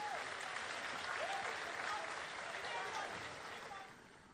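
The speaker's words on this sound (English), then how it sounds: "Let's give him a round of applause." Applause rises from a large audience at a formal event in Ghana, a steady rush of clapping that fades in its final second while a voice speaks faintly over it.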